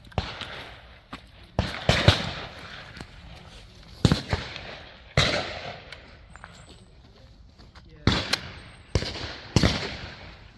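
Shotgun shots fired at clay targets during a coached clay shooting session, a series of sharp loud bangs spaced a second or two apart, some in quick pairs, standing out clearly above a quiet outdoor background.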